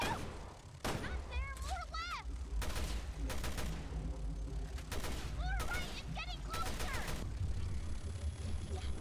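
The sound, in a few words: gunfire in the video game Resident Evil Revelations 2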